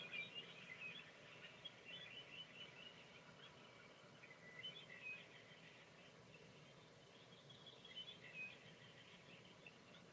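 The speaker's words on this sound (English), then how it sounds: "focus on the nature sounds, the birds," Faint birds chirping in the distance, scattered high tweets over a low steady outdoor background, no voices.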